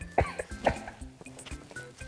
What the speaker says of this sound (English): If you feel the urge to cough, don't do this.